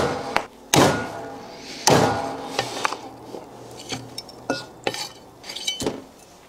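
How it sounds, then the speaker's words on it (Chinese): A cleaver chopping a beef hoof into small pieces on a board, with several loud sharp thwacks followed by a run of quicker, lighter knocks and clinks, irregularly spaced and close. "剁成小块"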